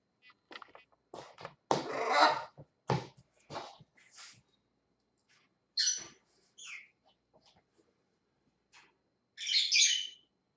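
Pet lovebirds chirp in a room, with a run of short scratchy calls at first, then scattered sharp tweets and a final burst of high chatter, separated by quiet gaps.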